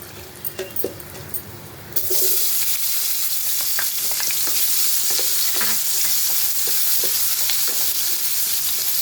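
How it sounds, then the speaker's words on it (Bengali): Whole garam masala and onions hit hot oil and burst into a loud, steady sizzle that keeps going, with scattered clicks of stirring above it after a quieter start. "এখন দিয়ে দেবো পেঁয়াজগুলো"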